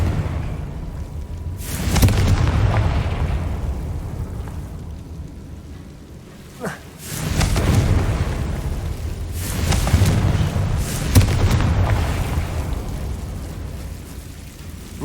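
Deep booming blasts from the Confringo fire spell in Hogwarts Legacy, several heavy rumbling bursts swelling and fading over a sustained low roar, loud and without speech.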